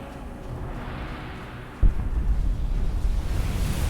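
Skyrim's Fire Breath dragon shout erupts as a sudden booming whoosh of flame that continues as a rushing roar for a couple of seconds, following a quiet lead-in.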